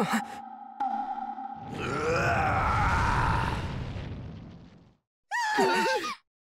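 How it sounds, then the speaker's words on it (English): A deep, rumbling roar swells and growls for several seconds, then stops; after a short pause a shorter, higher shrieking cry bursts out. "That's the roar of a demon!"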